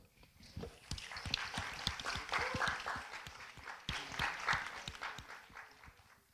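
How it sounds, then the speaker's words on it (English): A room full of people applauds the teams at the close of a master's thesis defense session, with steady, moderately quiet clapping that holds for about six seconds. "let a last round of applause for the teams"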